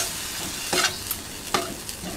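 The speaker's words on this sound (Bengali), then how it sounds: "এবারে একটু কষিয়ে নিচ্ছি দেখো তেলে, তাতে করে কিন্তু পেঁয়াজটা খুব ভালো করে ভাজা হয়ে যাবে" Onions and green chillies sautéing in oil in a pan over a low-to-medium gas flame: a steady soft sizzle with two brighter bursts of stirring scrapes, close and moderately quiet, no talking.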